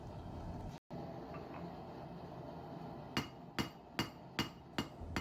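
Bronze bar being hammer-forged into a brooch, squaring it up and drawing the ends out: after a stretch of low background noise, six evenly spaced, ringing metal hammer blows arrive in a steady rhythm, close and clear.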